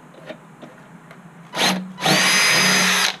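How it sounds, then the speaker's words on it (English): Power drill with a starter bit boring into metal in a BMW E36 M3 engine bay: a quick short burst, then a longer steady whir of about a second, loud and close after faint handling noises. "I'm gonna get a little bit larger bit, and I'll drill out the rest of it"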